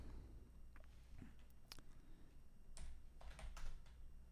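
Keystrokes on a computer keyboard come in short scattered bursts, typing up a stock ticker during a live pre-market trading stream, fairly close against a low steady background hum.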